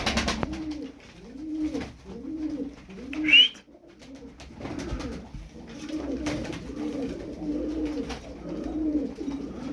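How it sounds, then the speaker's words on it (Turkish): Dumanlı pigeons coo in a repeated rhythmic series close by, soft rolling calls recurring through the whole stretch, broken once by a sharp brief sound. "13 tane kuş var burada."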